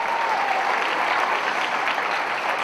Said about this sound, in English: Let's give our violas a round of applause.